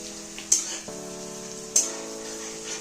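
Ginger, bay leaf, green chillies and spice-coated meat fry in a pan at home, a soft steady sizzle with two brief sharp crackles and a faint low hum beneath, fairly quiet and close.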